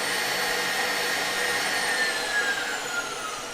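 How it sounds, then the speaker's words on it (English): A refurbished KitchenAid 7-quart Professional stand mixer runs at high speed, giving a steady motor whir with a high whining tone that slides slightly in pitch, moderately loud and close. "it does definitely have a wind up sound to it"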